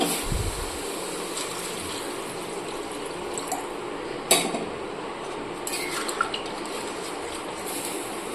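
Water is poured into a pan of fried masala for a fish curry, giving a faint, steady running splash under soft clinks of metal cookware.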